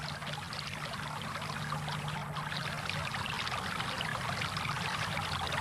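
Water flows steadily in a slow, languid southern stream lined with water crowfoot, making a continuous, even trickling wash with no breaks.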